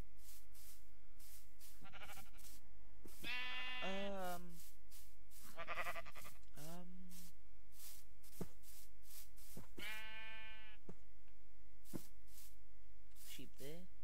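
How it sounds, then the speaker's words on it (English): Several short wavering bleats from sheep in a modded Minecraft game come and go over faint background tones, with sharp clicks scattered throughout; no talking. "Sheep there."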